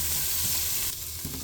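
Onion sautés in a frying pan while chicken tinola is cooked, a loud, steady sizzle and crackle of frying with a brief stir partway through.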